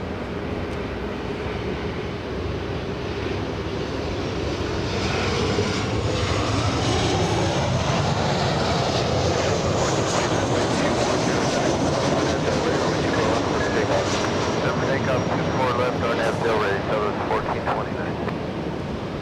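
A jet plane arriving at Los Angeles International Airport makes a loud, steady broadband roar that swells a little toward the middle and holds throughout.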